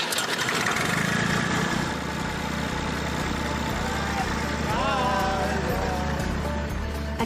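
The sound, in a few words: classic tractor engine starting and idling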